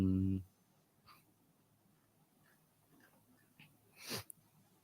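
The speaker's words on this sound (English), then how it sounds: "I guess no one here will say God bless you for that sneeze." A single sharp sneeze near the end, close and fairly loud, after a short stretch of quiet room noise and a brief voiced sound at the start.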